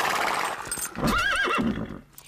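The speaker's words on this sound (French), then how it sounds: "Ce cheval, agité, énervé par un long voyage" An agitated horse, restless after a long journey and newly put in a stable box, lets out a loud, close whinny with a wavering, rising-and-falling pitch, framed by shuffling and hoof noise.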